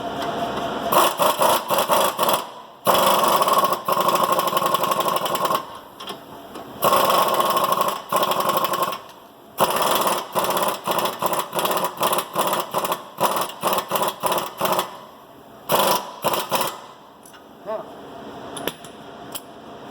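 An impact gun runs down a tie rod end nut on a Chrysler 300, firing in loud, rapid rattling bursts of a second or two separated by brief pauses, close up, with no talking.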